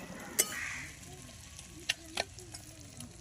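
Fish-head muri ghonto made with catla head and gobindobhog rice is stirred in a pan over a low, steady sizzle, with a few sharp utensil clinks against the pan. No one speaks.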